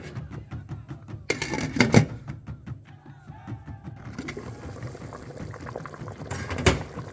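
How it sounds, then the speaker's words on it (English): Chicken foot and pumpkin soup, about three liters, bubbles in a pot with irregular liquid blips and gurgles, interrupted by a couple of louder clattering knocks nearby. "I'm gonna allow this to boil for another 30 minutes"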